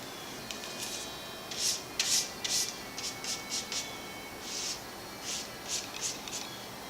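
A paintbrush sweeps in long strokes across a frame, soft bristly swishes repeating in quick irregular bursts, close up over a faint background hiss.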